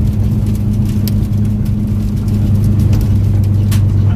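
A steady, loud engine drone and road hum from inside a Barra-powered Ford AU driving in fourth gear, with a constant low tone and no talking.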